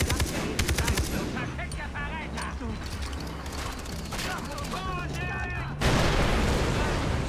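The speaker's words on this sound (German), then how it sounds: "Wow, nice Explosion auf jeden Fall." Gunfire and explosions from the video game Far Cry 3, with bursts of rapid shots and a loud blast near the end, mixed with game music and sound effects.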